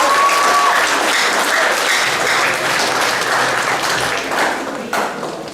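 Audience at a junior school prizegiving gives a round of applause after a performance, loud full clapping that starts at full strength and slowly tapers over about five seconds, with a brief whistle near the start.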